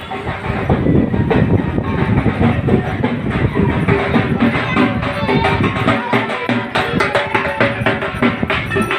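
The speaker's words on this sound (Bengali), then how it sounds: "ট্রেন।" A train rumbles past close by on the rails during a Diwali outing, loud and continuous with a steady clickety-clack of wheels for the whole stretch.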